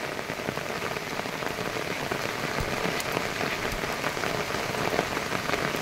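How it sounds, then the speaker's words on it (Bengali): A downpour of heavy rain beats on a pond in an unbroken, close roar of drops hitting water, even in level with occasional sharper spatters. "বিরাট বৃষ্টি হচ্ছে"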